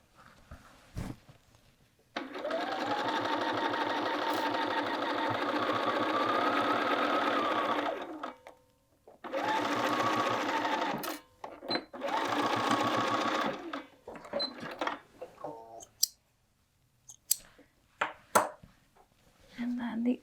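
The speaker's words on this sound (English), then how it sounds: "We're going to back tack and just sew across." A sewing machine stitches a quilted jacket's shoulder seam, whirring in a long steady run, pausing, then sewing two shorter bursts for the back tack, followed by scattered handling clicks; a voice speaks faintly in the background.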